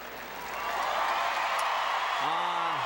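Crowd at the 2006 Westminster Kennel Club dog show applauding a golden retriever in the Sporting Group, a broad wash of clapping and cheering that swells and holds, with a voice briefly over it at the end.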